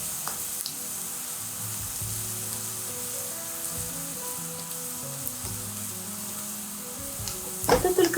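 A small handful of mushrooms sizzles steadily in a frying pan, an even crackling fry running throughout, with a brief burst of louder clatter near the end.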